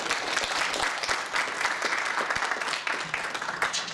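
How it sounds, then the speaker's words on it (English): Conference audience applauding the speakers at the close of a regional transportation operations and management session, a steady, dense wash of clapping from a sizable room, sustained and even for the full span with no talk over it. "Like to give all the speakers another round of applause."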